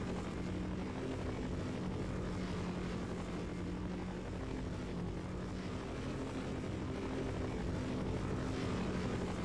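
A helicopter in the game Half-Life drones with a steady, loud rotor and engine roar at close range, continuous and unchanging throughout with no voices.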